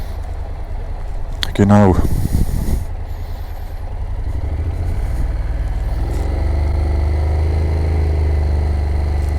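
A Mini car driving slowly, its low engine hum steady beneath someone talking, after a brief loud burst of noise near the start.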